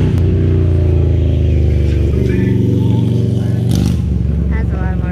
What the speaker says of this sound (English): That's a lot of motorcycle.